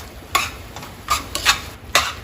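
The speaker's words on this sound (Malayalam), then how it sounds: "നന്നായിട്ടൊന്ന് വഴറ്റുക. മുളകിൻ്റെയൊക്കെ ഒരു പച്ചമണം മാറി വരുന്നിടം വരേക്ക് ഇതൊന്ന് ഇളക്കി കൊടുക്കണം" Spice powders (coriander, turmeric, cumin, pepper) being stirred and sautéed in a pan for a broccoli dish, with four distinct scraping strokes of a spoon against the pan over a faint sizzle, no talking.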